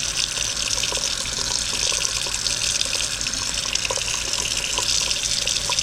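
Steady tap water runs continuously into a sink, a loud broadband rush holding even for the whole stretch, drawn while checking its temperature for proofing old yeast.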